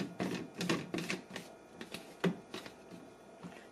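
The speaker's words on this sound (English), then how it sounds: "Screw on the blade." A plastic Nutribullet RX blender cup has its blade base screwed on by hand, producing a series of quick clicking, ratcheting ticks in an irregular rhythm, close and fairly quiet with no talking.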